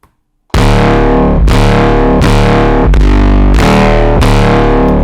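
Synthesized foghorn bass patch in Ableton, tuned to the key of E, with heavy distortion: five loud, sustained, buzzing horn blasts in a steady rhythm, each restarting sharply after a short gap, dry and close with no talking.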